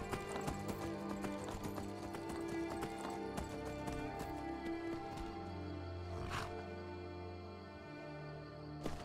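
Steady clip-clop of horse hooves from riding a horse in the video game Skyrim, continuous and fairly loud throughout, with game music and ambient sounds underneath.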